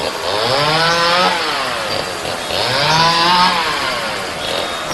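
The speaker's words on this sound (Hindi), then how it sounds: "चेन सॉ की आवाज बहुत तेज आ रही है" A chainsaw runs loud and close, its whining engine rising and falling in two long revving swells with a harsh buzzing tone.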